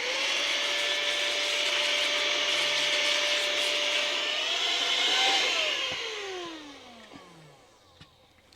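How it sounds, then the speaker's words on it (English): An air duster blows dust off the opened interior of a PlayStation 4 Pro (CUH-7215B), a steady close hiss with a whirring pitch that rises then glides down as the spray fades, ending with a few light clicks. "If you want to, just dust it down with the air duster."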